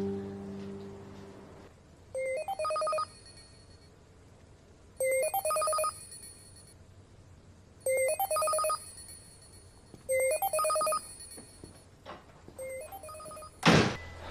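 A telephone ringtone chimes in four evenly spaced bursts with quiet gaps between, followed by a short sharp rustle near the end.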